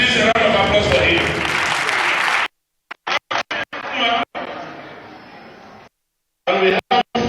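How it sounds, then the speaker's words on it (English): Audience applause fills a political roundtable on the 2023 elections, a loud sustained clapping burst followed by short choppy fragments of clapping broken by gaps of silence. "Please, a round of applause for him."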